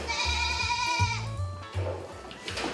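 A herd of goats on a farm bleats repeatedly as they come down from the mountain toward the pen, overlapping calls close and loud with steady layered voices.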